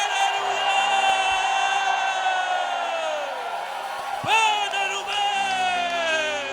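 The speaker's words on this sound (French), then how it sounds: "Poussez des cris de joie." A church congregation shouts and cries out in joy together, a loud sustained wash of many voices with whoops and yells swelling and falling, one sharp rising cry standing out near the middle.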